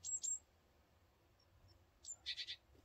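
Small birds sing in short high chirping bursts, a pair near the start and a quick cluster near the end, faint against quiet background hum with no talking.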